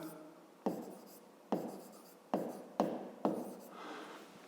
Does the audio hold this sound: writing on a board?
yes